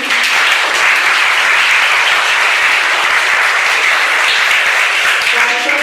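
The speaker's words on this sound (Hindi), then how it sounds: "एक बार जोरदार तालियों से उनका स्वागत करेंगे।" Loud, dense audience applause at a school book release ceremony, sustained and steady throughout with a crowd murmur underneath.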